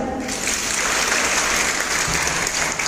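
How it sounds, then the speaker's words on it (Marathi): A crowd at a Women's Day event in Ambad applauds steadily, dense clapping filling the space without pause and with no voices on top. "स्वतःसाठी टाळ्या वाजवा"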